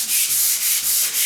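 Hand sanding a door with 150 grit sandpaper, a loud close scratchy rubbing in four or five regular back-and-forth strokes, with no voices.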